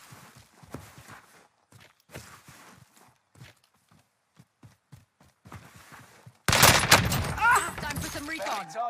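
Gunfire from the OWEN submachine gun in Warzone erupts as a loud, dense burst in the final seconds, following a stretch of quiet speech and scattered faint clicks and footsteps.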